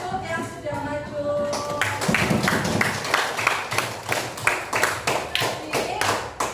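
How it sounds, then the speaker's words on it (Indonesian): Children in a fourth-grade classroom applaud classmates, irregular clapping that begins over some background talk and then grows into a steady patter of many hands, close and lively. "Beri tepuk tangan untuk yang sudah maju"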